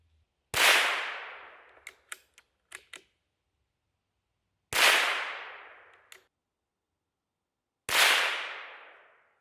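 Rifle shots fired at a target while sighting in a scope outdoors, three sharp loud cracks spaced a few seconds apart, each with a decaying echo, plus small clicks of bolt handling between them; no speech.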